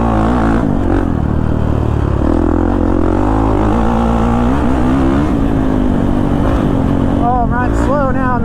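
A Kawasaki KX450 dirt bike engine roars loud and close under rolling throttle, its pitch rising and falling smoothly through gears with a few sharper revs near the end.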